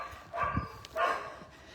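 A dog at an animal shelter barks twice, sharp and fairly close, with a short gap between the two barks.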